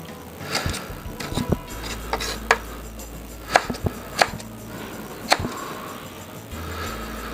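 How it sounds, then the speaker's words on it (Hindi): Knife chopping ingredients finely on a board for egg paratha, a series of irregular sharp taps, some clustered, some spaced out, close and moderately loud over low background hum. "उसके बाद इसको चॉप करना है बारीक बारीक सा"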